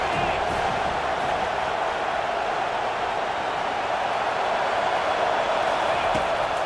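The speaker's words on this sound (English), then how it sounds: "Decibels rising as the crowd gets behind this defense on third down." Steady, loud roar of a college football stadium crowd swelling during a third-down defensive stand against USC, a dense wash of cheering and noise that holds without a break.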